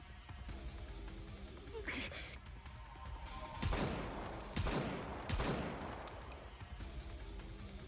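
Video game gunfire in DOOM II: a barrage of long-distance shots plays over a constant noisy game background, with several distinct blasts and crashes mid-clip.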